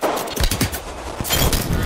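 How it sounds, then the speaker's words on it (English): Gunfire in the video game Apex Legends comes as rapid, dense bursts of automatic shots, loud and continuous across the short stretch. "I got shot from behind the wall."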